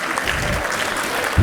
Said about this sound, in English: A round of applause for their mesmerizing creativity